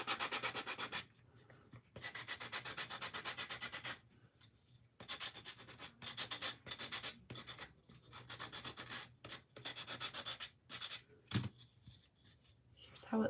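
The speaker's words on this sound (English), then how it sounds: "I'm going to sand around the edges a little bit, just the part that's peeking through" Bursts of dry scraping and rubbing come from sanding the edges of a small craft block, each sweep lasting a second or two with short pauses between strokes, close and fairly quiet.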